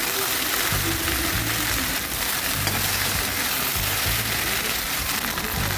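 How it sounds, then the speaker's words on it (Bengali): Okra (ladies' finger) frying in a pan while being stirred, a constant loud sizzle with scraping stir noises mixed in, with a voice talking intermittently underneath. "ভালোভাবে নেড়ে চেড়ে ঢেঁড়সগুলো ভেজে নিচ্ছি"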